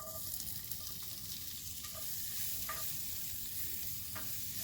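Diced apples hit a hot pan with browned shallots for an apple festival recipe, giving a steady loud sizzle with a few faint clinks of stirring, no voices.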